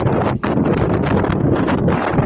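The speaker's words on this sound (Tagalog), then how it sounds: "Lakas ng hangin, oh." Strong seaside wind buffets a Samsung phone's microphone, a loud, continuous rumbling roar with a brief dip partway through, heard alone without speech.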